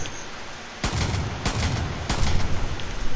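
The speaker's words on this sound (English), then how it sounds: "You're shooting at me." Gunfire in the Far Cry 5 video game: three or four sharp, loud shots spaced roughly half a second apart over a steady rumbling background, close and without speech.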